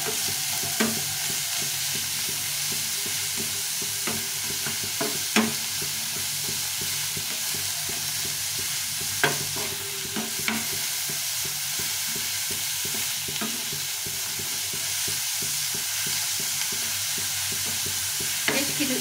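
Squeezed grated bottle gourd frying in a pan for a sweet milk pudding, a continuous close sizzle with steady stirring scrapes and occasional sharp spoon taps on the pan throughout, no voices.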